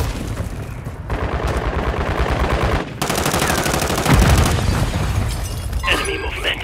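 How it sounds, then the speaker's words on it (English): Sustained automatic gunfire and bursts crackle through a Call of Duty firefight, loud and dense, with a short gap near the three-second mark before the rattling resumes alongside booms and game chatter. "Taking fire!"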